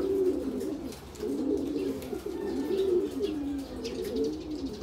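Racing pigeons on a corrugated roof coo in repeated low, rolling calls, close and continuous, with faint chirps in the background.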